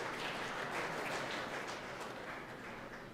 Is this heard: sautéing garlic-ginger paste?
no